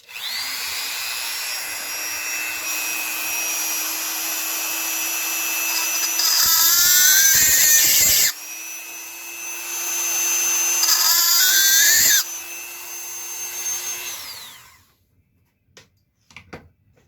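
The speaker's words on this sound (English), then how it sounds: "let me go and find a drill that's a little bit bigger than that one was" A power drill whines steadily, bogging down twice as it bites into material during jewelry making, then spins down and stops, followed by a few small clicks.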